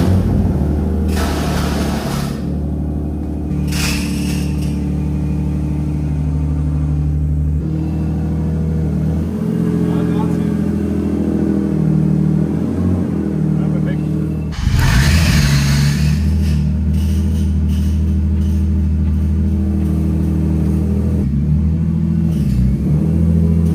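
A turbocharged BMW E36 runs after a clutch repair, its engine rumbling steadily and close. The idle rises into revs near the start and again midway, and no one speaks.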